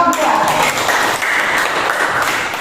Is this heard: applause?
yes